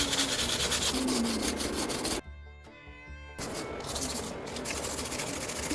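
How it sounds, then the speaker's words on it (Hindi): Sandpaper rubbed by hand over a cement-coated jug being repaired, a steady close, loud scratchy rasp that cuts out briefly partway through and then resumes. "जग पर अच्छे से सीमेंट डालकर उसे सैंड पेपर से घिसे।"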